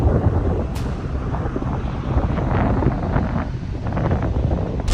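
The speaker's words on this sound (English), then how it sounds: "It's windy!" Strong storm wind in Ontario buffeting the microphone in a constant loud rumble, gusting unevenly throughout with no other clear sounds.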